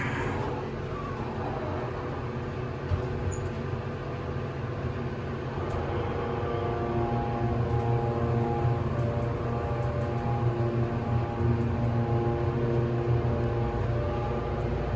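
A Montgomery KONE hydraulic elevator motor hums steadily with layered tonal drone, continuous and fairly close, swelling slightly partway through.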